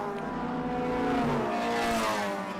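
Race cars at a Group S historic race meeting at Winton in 2023 pass over the line together, their engines producing a loud, continuous, overlapping roar that rises and falls slightly as they go by.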